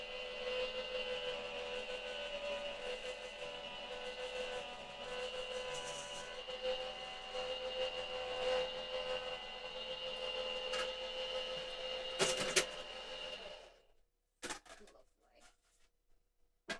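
An electronic craft cutting machine cuts a paper border, giving a steady, fairly quiet mechanical whir and hum with small clicks before it stops, followed by a few brief handling sounds.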